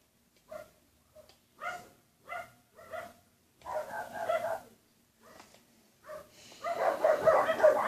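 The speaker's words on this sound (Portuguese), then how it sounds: "Se vocês estão vendo um latido aqui, é só o cachorro dele." Three dogs, Tufão, Beethoven and Mel, bark at a stone house, a series of sharp separate barks followed by longer, overlapping bursts of barking, fairly close with short pauses between, no talking.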